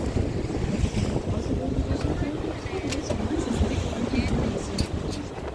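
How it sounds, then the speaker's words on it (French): Steady low wind rumble buffeting the microphone on a boat on the Seine in Paris, with background chatter and water or boat noise blending underneath throughout. "Avec le vent, je ne sais pas si vous entendez"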